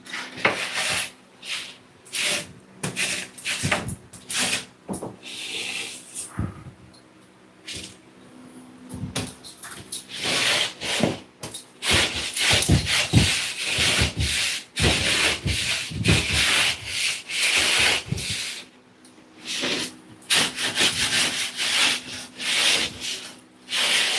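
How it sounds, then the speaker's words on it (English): Drywall rasp filing a wall, a run of rough scraping strokes that repeat at an uneven rhythm, loud and close, with brief pauses between bursts and no talking. "Hate using drywall rasps because it makes so much dust."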